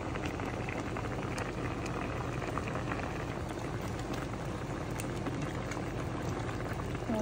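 Tilapia and pechay simmer in coconut milk, a steady bubbling boil with dense crackling pops that runs continuously and close, with no voices.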